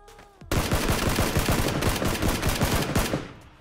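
Rapid automatic gunfire from PUBG rattles loud and close, a fast steady burst of shots lasting about three seconds before cutting off, with no talk over it.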